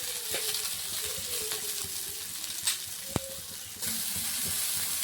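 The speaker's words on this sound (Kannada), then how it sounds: "ಒಂದು ಸ್ವಲ್ಪ ಹಸಿ ವಾಸನೆ ಹೋಗೋ ತನಕ ಒಂದು ಸ್ವಲ್ಪ ಫ್ರೈ ಮಾಡ್ಕೊಳಮ್ಮ" Soybean gravy masala frying in a pan, a moderate, even sizzle up close with occasional light stirring taps and a faint tonal hum underneath.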